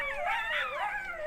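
A coyote howls, a wavering, rising and falling wail with several overlapping voices, clear and fairly loud, heard alone.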